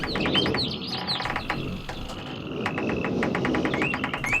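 Birds chirp and tweet in the video game realMyst, with repeated quick high calls and trills spread through the whole stretch over a steady ambient wash, fairly loud and without talk.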